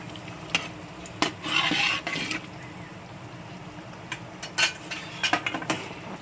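Salted mackerel pieces are slid into a pan of thick curry gravy and stirred, giving soft sizzles, a few sharp metal spoon scrapes and clinks, and a brief burst of frying noise, close and moderately quiet.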